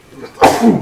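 A single sharp sneeze bursts out after a brief breathy intake, loud and close.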